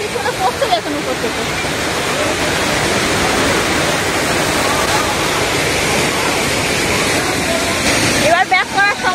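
Water pours down a waterfall beside the Double Decker Living Root Bridge in Cherrapunji, a loud continuous rushing roar close by, with brief voices near the start and end.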